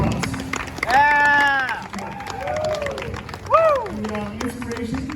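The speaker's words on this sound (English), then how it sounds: "Round of applause." An audience at Kentucky Kingdom amusement park claps and cheers, with loud shouted voices rising over the applause in two surges.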